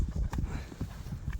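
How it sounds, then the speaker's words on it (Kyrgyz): A fast horse, up for sale, clip-clops on its hooves in a steady run of close hoofbeats, with a few faint voices in the background. "Аябай скоростной жылкы экен туугандар."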